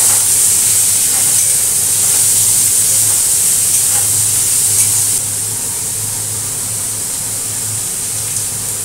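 Chopped onion frying in a pan, a loud continuous hiss and sizzle that eases slightly partway through, with no talking.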